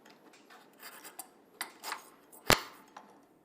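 A steel file rasps over a hand-made jian sword blade in a series of short strokes of uneven strength, with one sharp metallic strike near the end and no voices present.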